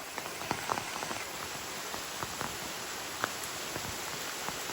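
Rain falling on the Appalachian Trail, a steady close patter of drops tapping on surfaces with scattered sharper plinks over a constant wash of rainfall.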